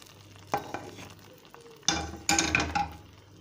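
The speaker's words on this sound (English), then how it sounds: "now I will put this tadka or bagar along with the oil" Hot tadka (bagar) with oil poured into thickened chicken harissa, bursting into a loud sizzle at about half a second, then stronger crackling surges near two seconds with stirring clinks of utensils against the pot.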